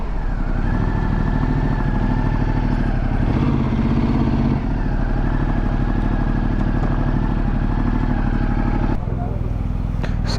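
Motorcycles idle at a Shell fuel station, a loud constant engine rumble with clattering and a shift near the end, people talking underneath.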